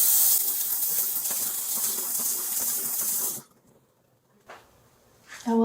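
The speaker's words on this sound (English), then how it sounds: "I'm going to rinse that." Water runs steadily, rinsing off an exfoliating skincare product during a ZO Skin anti-aging treatment: a loud hissing stream for about three seconds, then it stops, leaving near silence broken by a brief splash and a few small sounds at the end.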